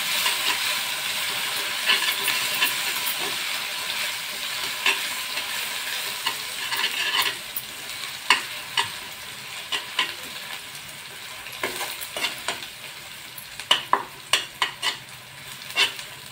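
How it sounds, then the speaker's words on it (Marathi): Spices sautéing in hot oil for Maharashtrian dal amti with soaked red chillies: a continuous close bright sizzle and hiss, punctuated by sharp scraping stirs and clinks that grow more frequent toward the end. "थोडीशी आपण तेलात परतून घ्यायची."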